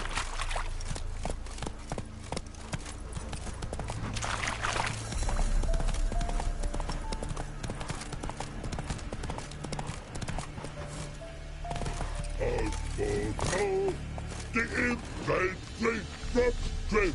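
Horse hooves clip-clop in a steady rhythm during riding in The Witcher 3, heard close beneath game music and ambient sound.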